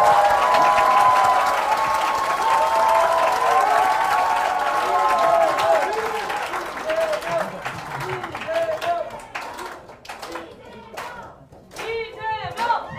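Applause and cheering from a town hall crowd greeting the Democratic Party leader in Jeju, loud and dense at first, thinning into scattered claps and crowd noise with voices over the later part.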